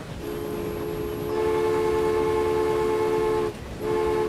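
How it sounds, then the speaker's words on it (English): An Amtrak Metroliner train in the game Transport Fever sounds a sustained multi-tone horn that breaks off briefly and then resumes, over a steady rolling rumble. "we're going to actually follow train 3 along on its final journey"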